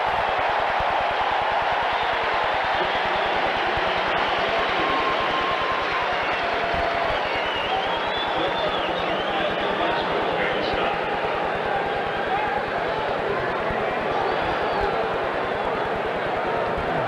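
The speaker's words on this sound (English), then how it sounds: "the Seahawks fans have finally gotten into this one after a very quiet first half" A stadium crowd of Seattle Seahawks fans roars steadily through an NFL football game against the LA Rams in 1991, a dense, continuous wall of cheering with a commentator talking over it.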